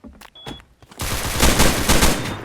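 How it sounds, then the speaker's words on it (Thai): Rapid automatic gunfire in a Rust-style Roblox survival game bursts in loud and dense after a quieter second of softer game sounds, continuing as sustained close machine-gun fire to the end. "เสียงปืนดังมากก็เลยลองเดินขึ้นไปดู"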